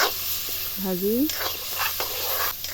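Loud hissing sizzle of turmeric and salt frying in a hot pan, with a brief squeaky scrape of a spoon stirring close by.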